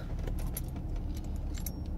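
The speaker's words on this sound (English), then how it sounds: "We have all the original keys." Original keys for a 1985 Jaguar XJ6 jangle close by in a bright metallic cluster of clinks, repeated over about two seconds with no talking.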